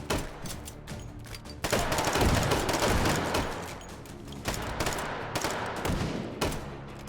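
Rapid bursts of gunfire in H3VR's Take & Hold mode, including a sniper rifle shot, come as a dense, loud fusillade. Sharp cracks recur throughout, with a heavier surge partway through.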